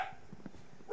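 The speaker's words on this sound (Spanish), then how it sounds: "que se ponga a ladrar cuando estoy grabando" A dog barks a few times in the background, faint and intermittent, with a louder burst near the end while someone plays Minecraft on PC.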